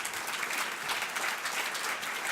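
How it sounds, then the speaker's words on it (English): A conference audience at the UNI Europa 2016 union gathering gives a round of applause, with a steady, even patter of many hands heard at a moderate distance and no voices over it. "So give her a round of applause."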